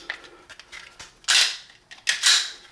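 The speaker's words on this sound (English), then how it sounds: "Now let's put the mag in it" A magazine is seated into a Springfield Armory Echelon 9mm pistol: a few light metallic ticks lead up to two sharp, loud clacks about a second apart as it locks home, close up with no talking.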